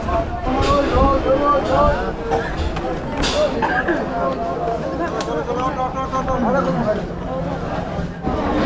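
Train rumbling at Debagram station platform, with a steady murmur of crowd chatter and voices throughout.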